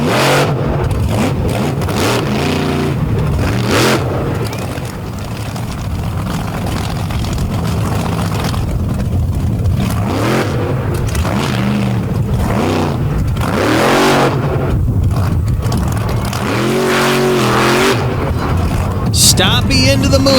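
A monster truck engine roars and revs hard through a day-one freestyle run at a Tennessee event, loud and continuous with repeated surges in pitch, and a commentator talks over it.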